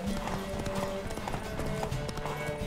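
Horse hooves clip-clopping in The Witcher 3, a steady close rhythm of beats running through the whole stretch alongside game music tones, with possible faint background voice.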